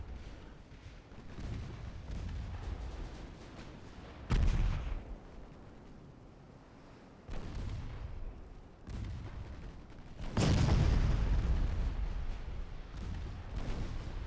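Heavy naval main guns firing in a naval warfare video game set in a 1949 Ottoman campaign: several deep, loud booms spaced a few seconds apart, each one rumbling away before the next, with no talking.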